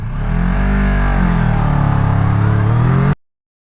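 A Kawasaki ER6n motorcycle pulls away from a standing start, its engine revving loud and close with rising pitch through the gears before cutting off abruptly.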